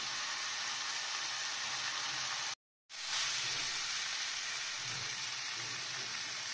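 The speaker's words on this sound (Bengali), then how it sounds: "এটাকে এবার কিছুক্ষণ কষাবো।" Ghugni cooked with mutton fat is sautéed in a pan, giving a loud, steady, close-up sizzle and hiss throughout, with one brief cut to silence partway through before the frying resumes.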